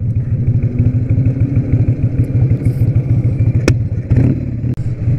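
A Harley-Davidson Sportster 1200 motorcycle rides steadily with a loud, continuous engine drone and rapid pulsing beat, close and dominant, with a brief clatter near the end and no talk.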